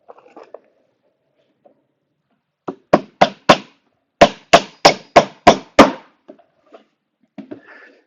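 Nails hammered into a wooden beehive box: a quick burst of three sharp, ringing strikes, a pause, then five more evenly spaced blows, close and loud, with faint handling knocks around them.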